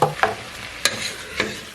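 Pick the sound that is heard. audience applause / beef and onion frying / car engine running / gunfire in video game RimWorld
beef and onion frying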